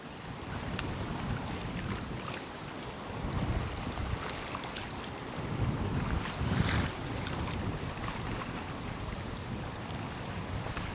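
Sailboat under way in the wind, a steady rush of wind buffeting the microphone over hissing water along the hull, continuous and fairly close, with gusts swelling midway and no voices.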